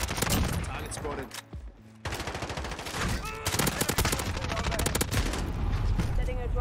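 An MP5 submachine gun fires in Call of Duty Modern Warfare, with rapid bursts of close, sharp automatic shots in several strings separated by brief pauses, mixed with game effects and in-game voices.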